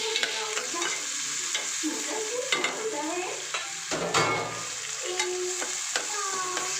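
Onion, tomato and ginger fry in oil with a steady, close sizzle, broken by occasional scrapes and clatters of stirring, and no one speaks.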